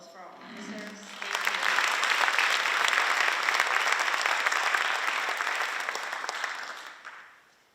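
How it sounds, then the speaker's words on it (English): An audience at a National Honor Society induction ceremony breaks into sustained applause, swelling quickly after a short spoken lead-in and holding dense and even for several seconds before tapering off. "Can I have another round of applause for our officers?"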